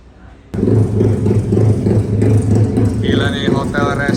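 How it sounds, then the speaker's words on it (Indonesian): A loud racing motorcycle engine suddenly starts and idles roughly with revving pulses up close at a hotel, while people talk over it toward the end. "Tamunya bawa motor balap semua, pada geber-geber."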